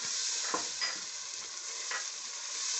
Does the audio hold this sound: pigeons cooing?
no